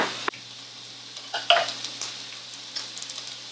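Broccoli goes into a hot pan with a coconut aminos sauce, giving a sharp initial hit and then a close, crackling sizzle with a few stirring clinks and no voices.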